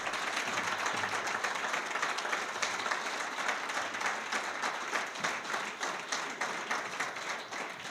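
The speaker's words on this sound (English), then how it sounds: "A round of applause." Audience applause fills an award ceremony for a European Region of Gastronomy, with dense, steady clapping from many hands that stays loud and even throughout before easing slightly at the end.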